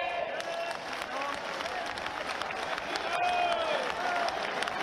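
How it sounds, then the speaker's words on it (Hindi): A large crowd at a Sanatan Hindu Ekta Padyatra gathering in Vrindavan claps continuously, a dense, steady wash of applause with cheering voices mixed in throughout. "यदि आपको अनुकूल हो, चित्त ताली बजाइए।"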